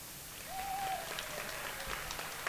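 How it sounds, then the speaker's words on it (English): An awards ceremony crowd applauds the winning Proveit proposal, a sustained, fairly even sheet of clapping with a faint tone or whistle drifting through it. "Please have a huge round of applause for"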